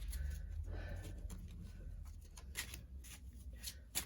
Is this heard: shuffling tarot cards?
yes